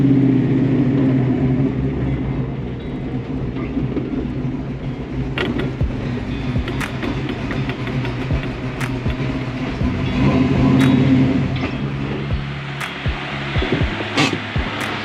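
A Ford 347 stroker V8 with a power-loss problem runs steadily nearby in a car, a continuous low mechanical drone with occasional sharp clicks and ticks, and no talking.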